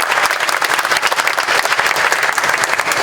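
A crowd at the Wausau Hmong Festival applauds steadily, with dense clapping filling the whole stretch at a lively, even level.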